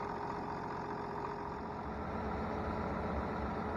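An International Harvester 856 Custom tractor engine idles steadily on a farm, a low, even rumble with no change in pace and no voices.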